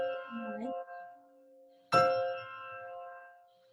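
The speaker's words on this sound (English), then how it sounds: "Church bells." Church bells ring out in a single bright strike near the middle, its ringing tones fading slowly after a quieter sustained tone at the start.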